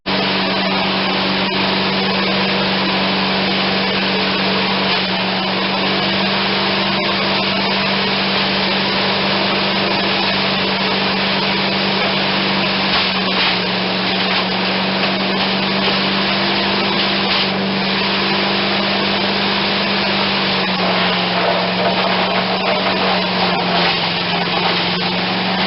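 An MTD chipper shredder with a 5 hp Briggs and Stratton engine runs steadily nearby, a loud continuous engine drone with a grinding, rushing shred over it and slight shifts in pitch throughout.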